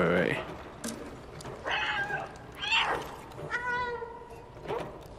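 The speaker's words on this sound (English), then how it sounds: "Cat to keep meowing like a fucking actual cat" A cat meows several times in the video game Stray, short rising and falling calls spread across the moment under a noisy game soundscape, with a voice talking in places.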